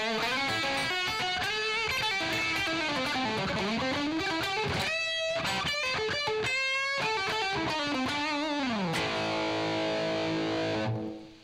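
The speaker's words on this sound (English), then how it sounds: "That's a lot of reverb." Distorted electric guitar with a T-top humbucker pickup, drenched in heavy reverb, plays a busy run of bent and sliding notes for about eleven seconds, ending on a sustained ringing chord that cuts off at the end.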